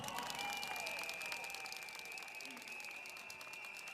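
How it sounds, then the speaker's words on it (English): A crowd applauds steadily at a political party election rally in Singapore, dense clapping heard from a distance in a large room, continuous throughout. "Can we give him a round of applause as well?"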